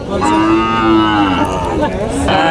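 A dairy cow at the Alamdanga cattle market gives one long, loud, close moo that fills the whole moment, with no talk over it.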